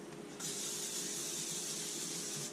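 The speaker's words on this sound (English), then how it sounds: "You want to spray your pan." A sharp burst of cooking spray onto a pan starts after a moment of quiet and hisses steadily for about two seconds, close to the microphone.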